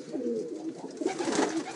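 Pigeons coo in a loft of prize racing or flying birds, a steady low burbling murmur running throughout with no voices over it.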